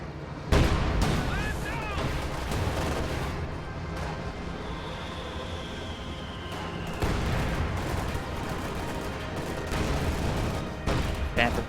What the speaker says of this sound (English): is quite expensive to maintain under this sheer quantity of artillery fire